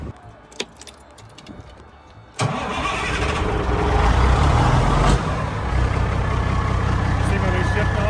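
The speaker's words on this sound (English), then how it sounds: "So we're going to take some of the taping off and drive it around the other side of the shop" Keys jingle faintly before a car engine cranks and catches, then settles into a loud steady idle and revs slightly as the vehicle moves off from a shop yard; a voice is briefly heard.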